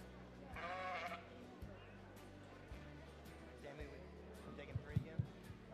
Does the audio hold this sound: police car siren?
no